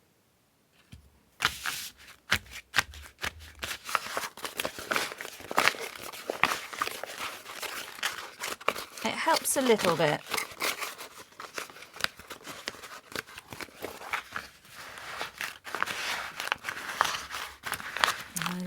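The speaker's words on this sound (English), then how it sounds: "It is quite therapeutic to just be able to scrunch this paper up." Paper is scrunched and worked by hand for a rustic momigami purse after a light spritz of water, producing close, continuous crackling and crumpling in irregular bursts, with a brief spoken remark partway through.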